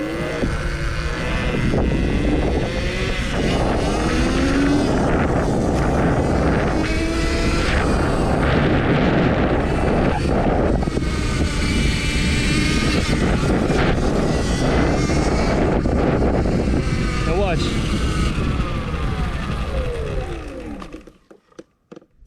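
An Electric Motion Escape 2020 electric trials motorbike accelerating under throttle gives a steady, loud whining roar with heavy wind buffeting throughout, cutting off abruptly near the end.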